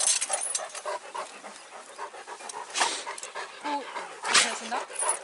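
A black-and-grey brindle Kangal bitch pants close by in a rapid, continuous rhythm. A faint whimper comes through, and people talk in the background.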